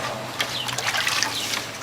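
Water mixed with a little bleach sloshes as it is stirred inside a plastic upside-down tomato planter, a close, continuous liquid swishing with small splashes.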